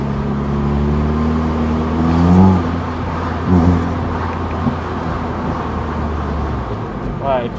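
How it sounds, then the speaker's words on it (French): A car engine idles with a steady low drone, then rises in two short revs partway through as people talk over it nearby, with a faint whirring vehicle pass near the end. "la voiture elle est pas assez chaude, donc elle fait pas les retours que je voudrais"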